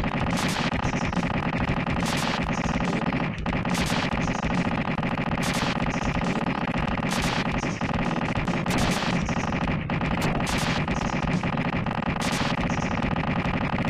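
Rapid, repeated gunfire from the SNES game Earth Defense Force, loud bursts of sharp shots recurring every second or so over a dense, continuous bed of game music and effects, with no talking.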